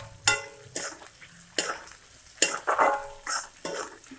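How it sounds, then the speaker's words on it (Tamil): Onions and curry leaves fry in oil in a pan, with repeated distinct scraping stirs of a spoon against the pan over a low sizzle. "இப்போ கருவேப்பிலை பொறிஞ்ச உடனே இந்த வெங்காயத்தை சேர்த்துக்கலாம். இப்போ வெங்காயம் நல்லா வதங்கணும்."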